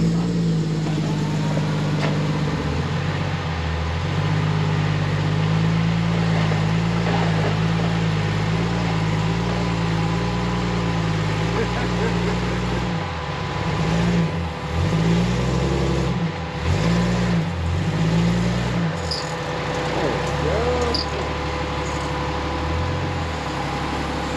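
A Jeep engine rumbles loudly and steadily as it crawls through an off-road trail, with the revs repeatedly dipping and surging toward the end as the vehicle works over obstacles.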